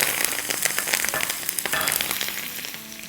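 Curry leaves, fifteen to twenty of them, hitting hot oil with chopped green chillies in a pan, giving a loud, steady crackling sizzle with sharp spits and pops that eases slightly toward the end.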